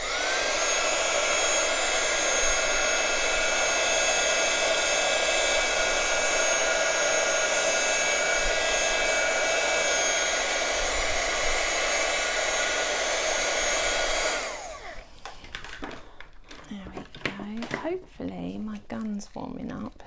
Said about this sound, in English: now I'm just going to heat set that